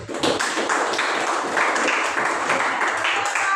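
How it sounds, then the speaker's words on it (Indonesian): Classroom applause for a student, a dense burst of many hands clapping steadily and close, filling the whole stretch with no talk over it. "Kita beri tepuk tangan untuk Raina dulu"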